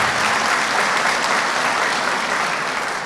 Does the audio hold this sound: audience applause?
yes